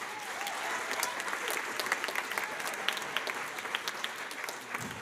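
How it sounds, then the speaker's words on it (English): An audience at a school concert applauds steadily, a moderately distant, even wash of clapping with scattered individual claps standing out. "Give another round of applause"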